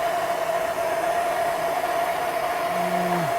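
A heat gun blows a steady, even hiss with a constant whine while heating wiring on a Wheel Horse garden tractor; the airflow stays unbroken throughout, with a short falling tone near the end.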